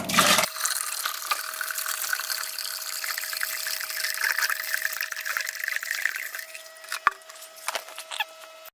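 Cold tap water pours steadily into a brewing vessel for steeping crystal malt on a homebrew extract day, a continuous close splashing patter running almost the whole time.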